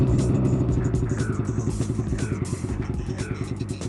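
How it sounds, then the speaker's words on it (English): Polaris Dragon 600 CFI snowmobile engine running just after starting in a cold-start test, a loud, close two-stroke putter with a steady rapid pulsing rhythm throughout. "First up, the Polaris Dragon 600 CFI."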